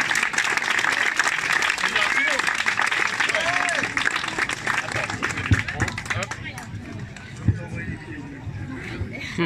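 An audience applauds a gymnast at a beach-opening event in Meaux, France, with dense clapping and crowd noise that thins toward the end, while a voice talks over it.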